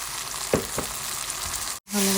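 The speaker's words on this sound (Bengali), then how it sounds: "ভালোভাবে কষিয়ে নেব মশলাটা" Spice masala of turmeric, coriander and cumin with tomato sautéing in a pan, a close, steady sizzle with a couple of soft stirring knocks, briefly cutting out near the end.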